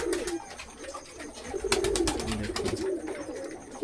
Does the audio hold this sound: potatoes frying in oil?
no